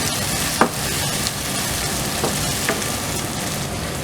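Tomatoes stirred into chicken handi frying in a pot make a loud, steady sizzle, with a few sharp spoon taps against the metal, close and continuous.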